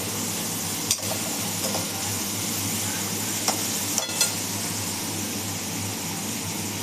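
Ginger garlic paste sautéing in a pan for pav bhaji, a steady loud sizzle throughout with a few faint scrapes of a spoon stirring.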